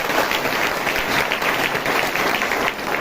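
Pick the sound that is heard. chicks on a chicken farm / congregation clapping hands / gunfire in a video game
congregation clapping hands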